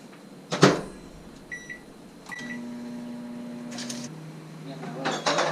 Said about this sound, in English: heat it up in the microwave